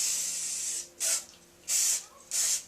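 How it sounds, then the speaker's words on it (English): Carburetor cleaner sprays onto a decarbonized lawn mower cylinder head in close hissing bursts: one long spray followed by three shorter ones with brief pauses between them. "take some carburetor spray"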